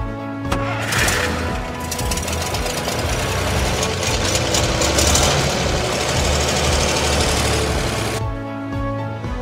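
A small truck engine runs at a steady idle with a low rhythmic knock, rising to a louder, busier roar for several seconds before settling back to idle.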